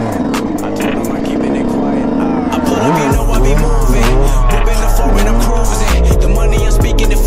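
A 2021 dirt bike in a motorcycle shop revving hard, the engine pitch sweeping up and down in sharp bursts, loud and close, with a deep rumble underneath and people talking over it.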